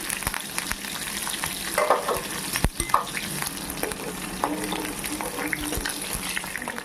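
Cumin, mustard seeds and asafoetida sizzle in hot oil as a tempering for a raw mango dish. A steady crackling fry comes with stirring scrapes and one sharp clack partway through, all up close and without talk.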